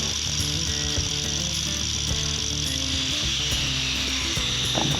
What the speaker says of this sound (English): Now we get to use the big sharp blade. We're gonna chip out these welds here.